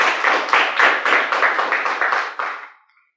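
A church congregation gives the Lord Jesus an offering of applause, a short burst of loud, close, rhythmic clapping in about eight strong pulses that fades out after roughly three seconds, with no talk.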